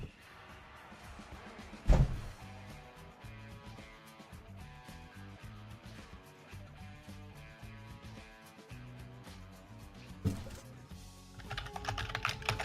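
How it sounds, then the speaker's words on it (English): Keys clatter on a computer keyboard in quick, irregular bursts, with a couple of heavier key strikes and soft background music beneath. "I respond with typing."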